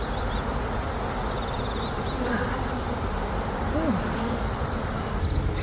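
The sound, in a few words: honeybees buzzing during a fall hive inspection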